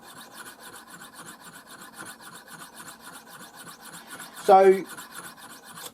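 A knife blade rasps in steady, rhythmic strokes across a banded jasper Viking whetstone, close and dry, each pass a short scraping rub; a voice speaks briefly near the end.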